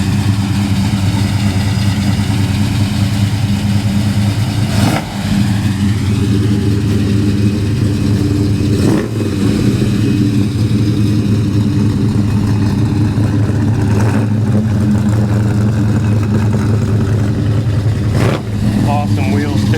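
A 1973 Plymouth Duster's engine runs loud and steady with a deep, throbbing idle, punctuated by a few sharp revs spaced several seconds apart, with some talk nearby.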